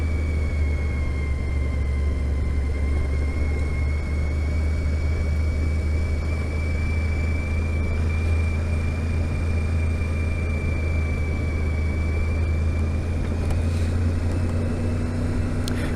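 A motorcycle fitted with a non-race exhaust can climbs a steep 25% gradient, and its engine and exhaust drone loudly and steadily with a rising whine that runs through the whole ride.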